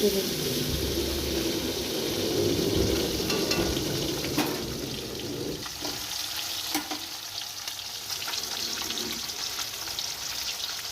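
Fish fries in a hot pan with a loud, continuous sizzle that runs unbroken throughout, marked by a few faint clinks of handling close by.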